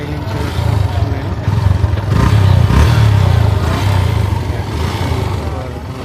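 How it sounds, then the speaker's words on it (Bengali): Exhaust note of a Yamaha FZS Fi V2 motorcycle, loud and close, rising into a revving swell midway and then settling back to a steady throaty run. "সাইলেন্সারের সাউন্ড শুনেন"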